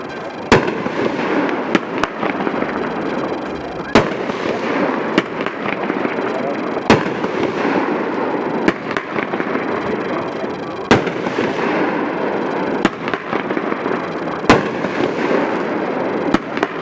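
Schneitter 'Superimposing' 23-shot fireworks cake at a demo, sharp launch bursts firing in a steady series every second or two over a continuous crackling, hissing roar, loud and close.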